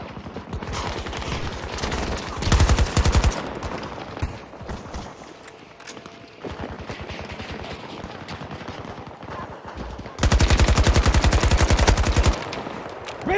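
Video game battle gunfire: dense bursts of rapid automatic fire rattle at close range, with the heaviest volleys early and again near the end over a steady din of shooting.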